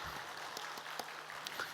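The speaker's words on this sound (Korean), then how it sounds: "우리 하나님께 감사의 박수를 우리 같이 한번 올려드리면 좋겠습니다" A church congregation clapping together in thanks during a worship service, a short burst of steady, moderately faint applause with a few sharper claps standing out.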